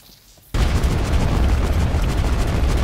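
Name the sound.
firework launcher shots in PUBG Mobile video game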